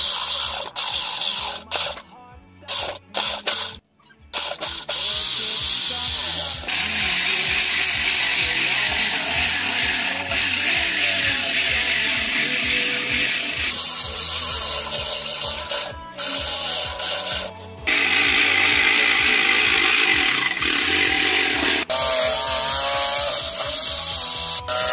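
A power tool cuts marked plywood for a portable speaker box, giving a loud, sustained whine and buzz in long stretches broken by short pauses, with some talk at the start.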